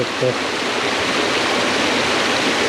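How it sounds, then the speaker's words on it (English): Stream water pours down over sandstone rock in a steady, loud, broadband rush that fills the whole moment without pause. "The water coming down here over the rock."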